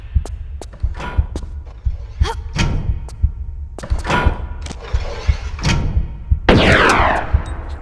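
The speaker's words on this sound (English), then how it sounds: "Shoot the boulder quickly before it blocks this passage" Sharp gunshots fired at a boulder in a Tomb Raider level editor level, several separate loud cracks and thuds spaced irregularly, ending in a sweeping rumble.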